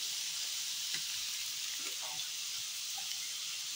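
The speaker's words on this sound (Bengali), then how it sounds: "এখন মশলাগুলি দিয়ে ভাজা ভাজা করে নেব" Spices such as cumin and chili powder fry with onion and tomato in a pan for a katla fish curry, a soft, even sizzle with a few faint clinks, low and continuous, no talking.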